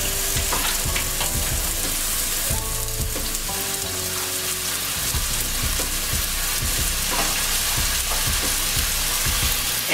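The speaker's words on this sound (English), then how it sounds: "you gently just want to grab the burgers and place them in the skillet" Spinach feta turkey burgers fry in olive oil in a skillet over medium heat, giving a loud, steady sizzle and crackle with scattered pops and spatters throughout, with no talk over it.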